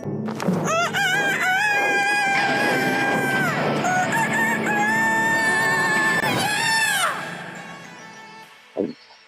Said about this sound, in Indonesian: kokokan ayam hutan yang pertama itu sangat-sangat menggelegarkan panggung perkokokan